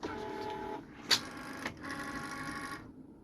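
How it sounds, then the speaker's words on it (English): A Cricut cutting machine loads a mat ahead of cutting holographic kraft board for earrings. It gives a steady mechanical whir with one sharp click partway through, then a second stretch of motor hum that stops cleanly. "the Cricut machine is ready to cut. So I'm going to go ahead and load."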